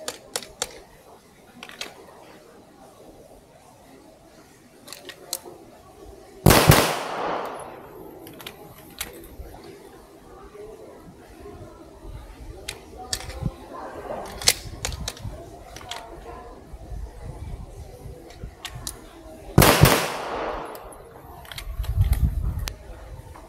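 Two pairs of sharp 9mm pistol double-tap shots ring out at 5 meters on a competition range, each pair a loud, close crack, spaced well apart with quiet handling noises and brief faint talk between.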